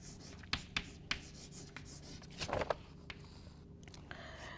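Marker or chalk writing out an equation on a board during a lecture on expansion waves: a handful of short scraping strokes and taps, close and fairly clear, in a quiet room with no talking.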